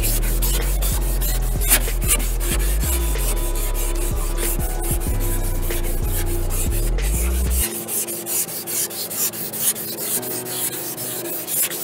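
Primer on a Tundra truck's front-end parts is sanded by hand with 400 grit sandpaper. Close, steady rubbing strokes repeat continuously, over a constant background hum that stops partway through.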